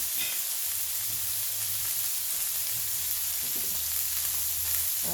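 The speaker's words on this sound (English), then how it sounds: "we're just going to let your burger cook" A burger patty fries in an oiled pan, a steady close hiss of sizzling fat running unbroken with faint low kitchen hum underneath and no talking.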